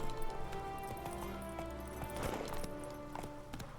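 Horse hooves clip-clopping in The Witcher 3: Wild Hunt – Blood and Wine, a steady rhythmic trot under game music and ambience, fairly quiet and close.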